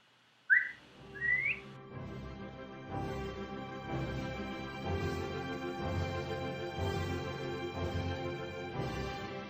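A man whistles two short rising notes, loud and close, before music with steady instruments takes over for the rest of the stretch.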